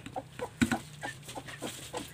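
A brooding hen sitting on chicken and duck eggs gives a string of soft, low clucks and murmurs close by, irregular short calls under quiet background sound.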